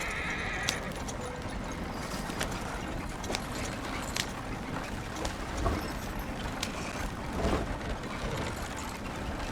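A horse in the video game Red Dead Redemption 2 whinnies and stamps, with repeated clip-clop hoof strikes and a short neigh over a busy, noisy game background.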